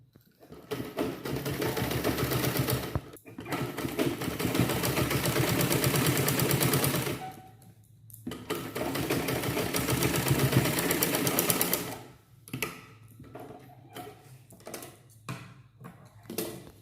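A sewing machine stitching a blouse collar runs in long, steady, rapid bursts with brief pauses between them, close and fairly loud, before ending in lighter, scattered ticking.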